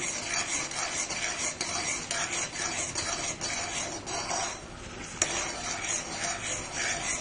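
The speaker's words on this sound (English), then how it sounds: "I am going to add this cardamom powder. and keep on stirring it continuously" Almond halwa with cardamom powder being stirred continuously in a pan, a steady close scraping and rubbing of spoon against thick paste with soft sizzle, running throughout with a brief sharper knock near the end and no talk.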